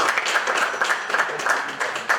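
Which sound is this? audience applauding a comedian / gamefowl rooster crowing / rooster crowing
audience applauding a comedian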